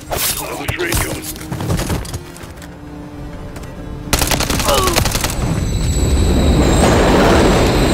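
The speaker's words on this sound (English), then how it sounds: "Oh, the train guns." Train-mounted machine guns in a realistic shooter video game fire rapid bursts of gunfire, loud and close, broken by a quieter pause, then a heavy sustained barrage with rumbling rail noise underneath.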